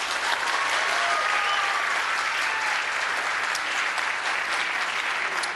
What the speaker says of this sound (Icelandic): klappa saman höndum